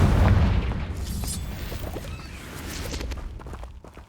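A heavy magical blast from the Confringo spell in Hogwarts Legacy, a deep booming burst up front that rolls into a long rumbling tail with scattered crackles and debris, loud and close, no talking.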